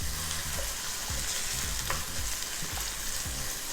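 Onions sautéing in a pan are tossed and stirred, giving a continuous close sizzle broken by rhythmic scraping and shuffling sounds.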